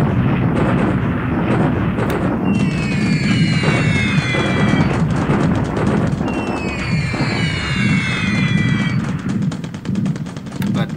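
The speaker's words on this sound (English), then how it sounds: "Now we have again this support bombardment in China." Support bombardment in China from the War in the Pacific strategy game, a loud continuous barrage of rumbling explosions and crackling blasts with whistling descending tones layered on top twice.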